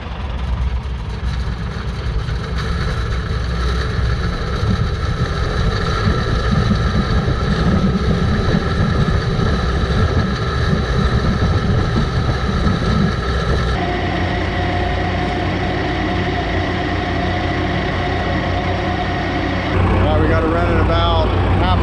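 An Oliver tractor engine runs steadily under load on a dynamometer, a loud continuous low mechanical drone with a slight shift in pitch partway through, a voice occasionally heard over it.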